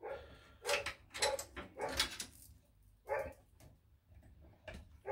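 Dogs bark in bursts from downstairs, several sharp yaps spread across a few seconds, slightly distant and muffled within a room, with brief gaps and a few fainter whimpers between them.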